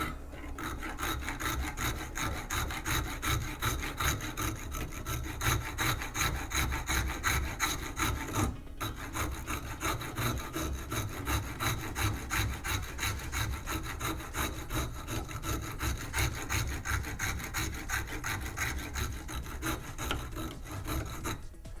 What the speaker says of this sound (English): Okay, I'm gonna start with this microplane rasp. It takes off quite a bit of material.